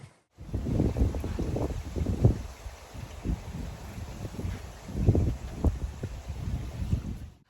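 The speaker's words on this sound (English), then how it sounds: "You can see it's pretty breezy today" Gusty wind blows outdoors in a garden beside a greenhouse, buffeting the microphone in loud uneven bursts that rise and fall.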